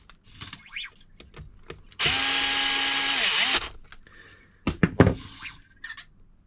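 Power drill driving screws back in on a repair bench: a loud, steady whir for about a second and a half that winds down, framed by quieter clicks and handling noises before and after.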